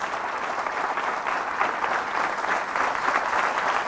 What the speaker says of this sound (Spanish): Fuerte el aplauso a la palabra de Dios.